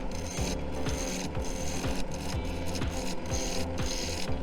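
A piece of wood spins on a lathe while a parting tool cuts into it, giving a close, continuous rasping hum with a regular repeating rhythm from the rotation.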